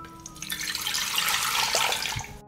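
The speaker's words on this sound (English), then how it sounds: "I pour 1 liter of water into the pot." A liter of water is poured into a cooking pot while preparing a pepper marinade: a steady, close splashing stream runs for about two and a half seconds, then cuts off abruptly, with no talking.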